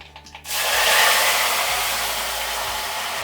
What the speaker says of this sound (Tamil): கடுகு வெந்தயம்லாம் நல்லா இப்போ பொரிய ஆரம்பிச்சிருச்சுங்க. கருவேப்பிலை சேர்த்து விட்டுக்கலாம்.